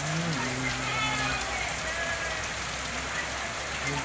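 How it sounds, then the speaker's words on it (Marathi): Heavy monsoon rain pours steadily, a dense constant hiss of drops hitting surfaces close by, with faint speech in the background. "माझ्या समोर पहा कसा पाऊस येत आहे"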